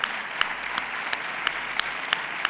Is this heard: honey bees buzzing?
no